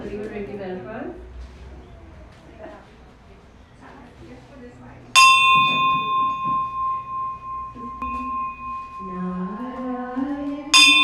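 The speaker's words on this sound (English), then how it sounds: "So somebody will ring the bell first." A brass bell rings for an Arti ceremony at a Ramayan satsang, with a bright sustained tone struck once and then again near the end, ringing out over people talking and chanting.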